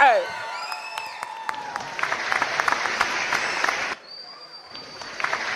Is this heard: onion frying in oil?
no